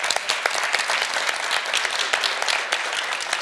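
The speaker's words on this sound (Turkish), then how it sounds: "Efendim, jüriyi de bir alkışlayalım" Audience applause for the jury at a CFA Institute Research Challenge final in Turkey, a dense, steady patter of many hands clapping at once, sustained and fairly close, with no voices over it.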